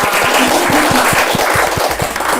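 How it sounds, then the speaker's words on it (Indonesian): A festival audience at a book event claps together, a dense burst of applause with a rhythmic beat of strong claps running through it, loud and close for a couple of seconds. "Tepuk tangan dulu dong."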